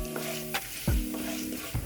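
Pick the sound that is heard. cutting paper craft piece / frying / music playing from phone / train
frying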